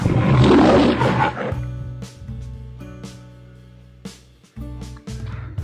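A lion lets out one loud, rough roar, which fades as light music takes over.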